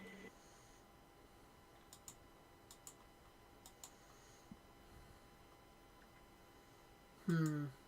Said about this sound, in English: you may feel or hear some valves clicking, but this is expected